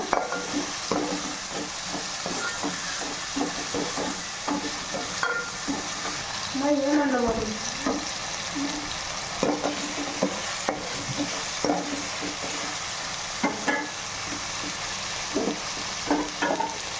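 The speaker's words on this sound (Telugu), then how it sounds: "ఇప్పుడు టమాటా ముక్కలు వేయాలండి. ఇవి కూడా బాగా మగ్గిపోవాలండి." Tomato pieces sizzle steadily in a pan for chicken curry while a spoon stirs and scrapes through them at intervals, the frying hiss continuous and close throughout.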